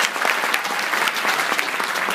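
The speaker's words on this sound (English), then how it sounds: "You guys give these people a big round of applause." An audience applauds with dense, steady clapping that stays loud and even from start to finish, with no voices standing out.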